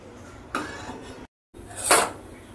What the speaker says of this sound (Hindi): आता आपण कढई शेगडीवर ठेवूया।